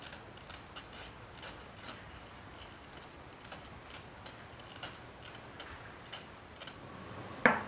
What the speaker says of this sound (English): go in here with a small round file and clean out some of those